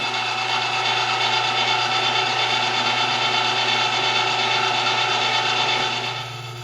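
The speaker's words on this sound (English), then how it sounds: "let's run it through the fine plate now. We're just gonna load up the auger a little bit." A meat grinder forcing wild turkey through a fine plate, with an auger loaded, gives a loud, steady, rasping mechanical grind that runs continuously and eases slightly at the very end.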